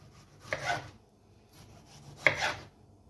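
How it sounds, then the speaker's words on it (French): A serrated knife saws through a tomato into slices, two short crisp cutting strokes with a quiet pause between them, close and alone without speech. "Et toujours avec le couteau à dents, on va faire des tranches, tout simplement."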